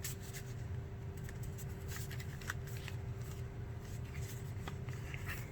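Journaling paper handled in a micro mini scrapbook, giving soft, faint rustles and small flicks over a steady low hum, continuing for several seconds with no talk.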